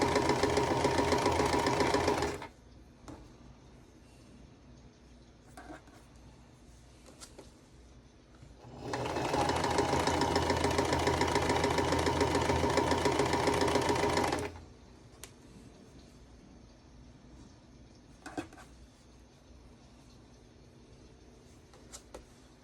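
Sewing machine stitching rows of quilt blocks for a gnome block-of-the-month quilt, two loud sustained bursts of rapid stitching separated by quiet pauses with small handling clicks.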